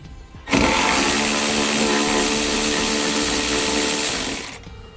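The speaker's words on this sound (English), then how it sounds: "You're going to want to grab a 10mm socket and pull the bolt out that's holding it in place." A powered 10mm socket driver removes a cargo tie-down bolt inside a 2016 Honda CR-V, a loud, close, steady motor whir that starts abruptly, holds for about four seconds, then winds down.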